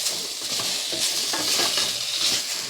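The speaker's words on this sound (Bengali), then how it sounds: "আঁচটাকে লো ফ্লেমে রেখে সব সবজিগুলোকে ভেজে নিতে হবে ভালো করে" Mixed vegetables frying over a low flame for a Bengali rohu fish curry, with a steady sizzle and scraping stir strokes against the pan, close and continuous.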